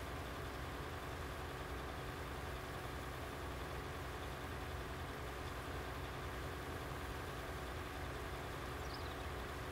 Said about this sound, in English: And again, still using the tractor here.